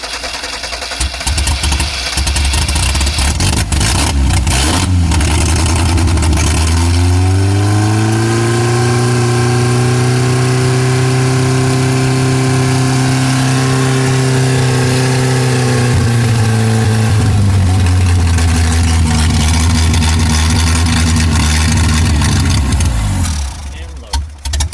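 A Ford Festiva rally car engine cranks and catches, then revs up and holds a steady rising drone before settling back, loud and close throughout with rough rattling texture, with people talking.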